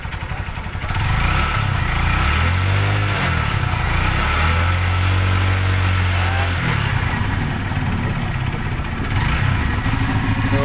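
A Honda Supremo motorcycle engine, under repair for a battery that won't charge, is revved in a workshop: a loud, close engine roar that climbs and falls in pitch over several seconds, with no talking.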